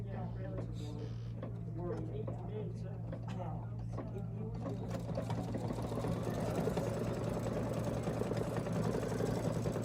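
A sewing machine stitches a tack-down on purple fabric for a Kimberbell bench pillow. It makes a close, steady mechanical whir throughout, with people talking over it early on before the stitching grows louder and busier.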